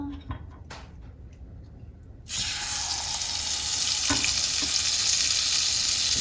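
Butter hitting a hot wok for salmon pasta: after a quieter stretch with a few knocks, a loud sizzle bursts in suddenly and continues steadily up close, with a clatter of utensils partway through.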